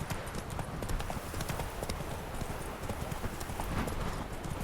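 Roach the horse trots in The Witcher 3, steady clip-clop hoofbeats repeating without pause, close and fairly even over a busy game soundscape.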